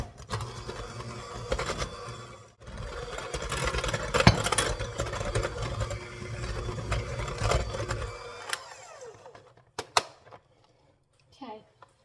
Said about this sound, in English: So I'm just going to mix it almost about a minute.